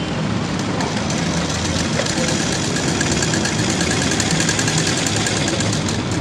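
Electric sewing machine running steadily while stitching a plain blouse shoulder seam, a continuous motor drone with rapid needle chatter throughout, close and moderately loud.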